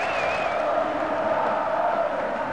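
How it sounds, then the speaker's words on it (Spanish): Stadium crowd cheering and celebrating Boca Juniors' championship win over Olimpo, a dense sustained roar with whistles rising above it, loud and continuous. "Y así los aplauden y así festejan."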